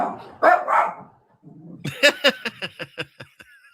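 A dog barks in a quick run of sharp, repeated barks, about ten in a row, following a burst of talk and a short lull, fairly close and loud.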